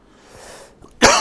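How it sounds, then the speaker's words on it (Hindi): A single sharp, loud cough bursts out near the end, preceded by faint room noise, from a man teaching an exam-preparation maths class. "हाँ भाई थोड़ी सी खांसी हो रखी है"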